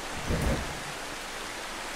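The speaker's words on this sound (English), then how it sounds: "Okay, it is raining." Steady rain in the video game The Final Station pours as a dense, even hiss, with a brief low rumble early on, loud and continuous with no talking over it.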